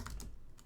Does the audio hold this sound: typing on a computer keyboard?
yes